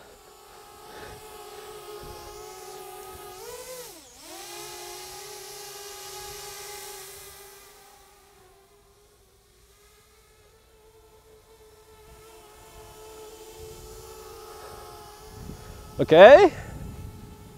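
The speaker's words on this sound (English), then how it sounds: "I'm flying a drone wireless." A small DIY drone steered by a homemade gesture motion controller gives off a steady buzzing whine with several tonal bands that dip and rise again. A brief louder swell comes near the end, and a voice speaks once.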